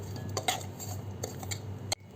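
Ground rice and cashew mixture stirred together by hand in a vessel for ariyunda, with soft scraping clinks of a spoon against the pot, a few sharper knocks, alone and close.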